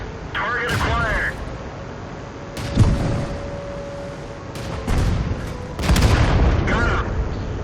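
Several booming tank cannon shots in the World of Tanks game, played as a Dicker Max on the Steppes map, ring out sharply at intervals among other battle sounds while a voice talks over them.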